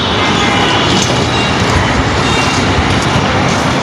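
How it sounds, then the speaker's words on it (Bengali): A loud, steady roar of a passing metro train near Kamalapur, Dhaka, broadband and continuous, with a faint high whine riding over the rushing noise. "ওই শাপলা চত্বর থেকে আসছে মেট্রো রেলটা"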